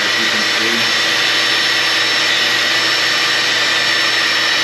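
A plastic welding tool runs steadily while joining a poly plastic silage box liner with matching poly filler, producing a loud, constant blowing hiss and whir without a break, with no talking.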